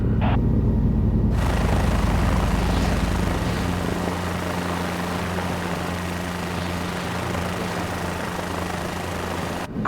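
A simulated helicopter hovers in Microsoft Flight Simulator, its steady rotor thump and turbine whine filling the scene continuously; a low rhythmic beating dominates the opening seconds before settling into an even drone.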